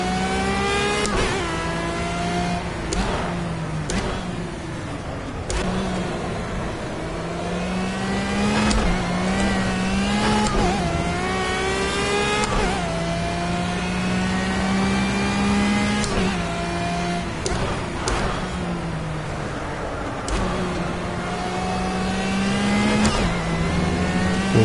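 A race car engine in the racing game Project CARS revs high through repeated gear shifts, rising and falling in pitch with sharp upshifts throughout and no talk.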